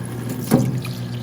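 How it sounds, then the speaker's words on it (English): Water pours briefly into a jug while parts are cleaned during a VW Bus front axle restoration, a short close splash and trickle over a low steady hum. "I filled this up with water again"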